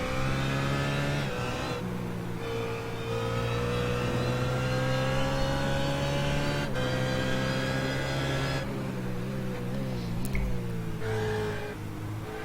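A race car engine roars during an endurance race at Road America, heard as a loud, continuous high-revving drone with steady pitch and slight shifts, close and unbroken throughout, with no talking.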